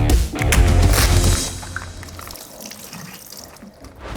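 Running tap water splashes steadily for the first second and a half while washing chicken wings, then a softer wet trickle and handling sounds continue, close by.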